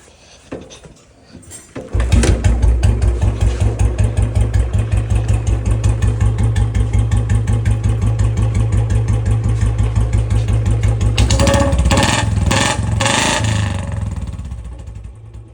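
A jeep's diesel engine cranks, catches and settles into a loud, steady, throbbing idle close by, with a few revs near the end.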